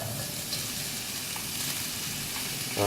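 Frozen mixed vegetables such as carrots and corn landing in a pan of sizzling semi-translucent onions, a steady close frying hiss that swells suddenly at the very end.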